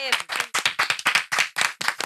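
A studio audience at a comedy talk show claps in brisk unison, about nine sharp, evenly spaced bursts close and loud, with a voice briefly heard at the start.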